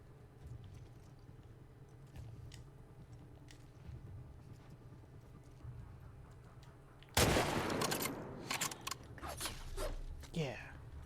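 Sudden loud gunshots in The Last of Us Part II follow a quiet ambient stretch, several sharp cracks arriving in a cluster late on, and a voice talks softly in the background.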